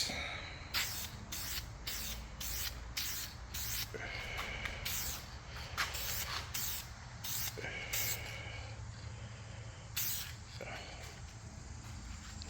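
Tint is sprayed in light coats from an aerosol can onto Cadillac CT6 tail lights: a series of short, close hissing bursts in a steady rhythm, about a dozen, with a voice speaking faintly between them.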